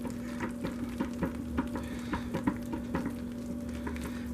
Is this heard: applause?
no